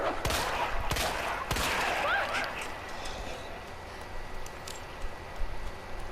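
A few sharp gunshots ring out early in a Resident Evil 2 Remake fight against a zombie dog, loud cracks that fade into a low rumbling ambience, with brief voice sounds over the top.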